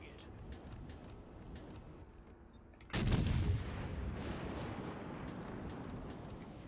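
Naval gunfire in the World of Warships Legends video game: a single loud booming salvo cracks out midway and leaves a long rumbling tail over the background game ambience.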